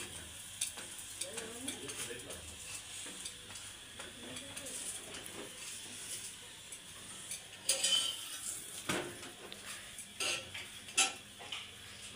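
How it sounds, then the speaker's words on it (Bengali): Parathas fry in a pan with a low sizzle, overlaid by frequent clinks and scrapes of a utensil against the pan, with a few louder knocks toward the end and a faint voice in the background. "আমি এভাবে সব কয়টা পরোটা ভেজে নেব"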